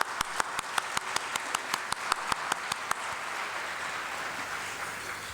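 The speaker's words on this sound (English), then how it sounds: "Can we give her a big round of applause?" Sharp, evenly spaced individual claps ring out first in a quick rhythm, then blend into broader, softer applause from the audience at an awards lunch, with no talk over it.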